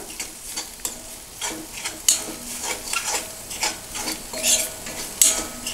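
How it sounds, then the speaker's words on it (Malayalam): A chili powder mixture for pepper chicken fry stirred in a frying pan, with gentle sizzling under regular scraping strokes of a spoon and occasional sharper clinks against the pan, close and clear. "ഇത് നന്നായി ഒന്ന് ഇളക്കിയ ശേഷം"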